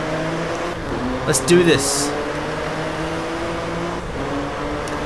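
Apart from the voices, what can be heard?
car engine driving in the Drive Club video game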